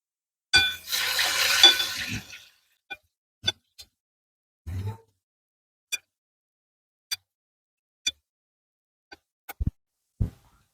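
Frying plantains flipped in a hot pan on an RV trailer stove: a burst of sizzle up close, then a series of sharp utensil clinks and taps against the pan, spaced out and separated by quiet.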